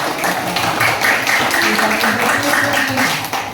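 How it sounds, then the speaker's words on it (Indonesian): Children in an Indonesian primary school group clap together, a dense continuous patter of many small hands close by, steady and fairly loud throughout with faint voices mixed in. "Tepuk tangan semua buat kita semua."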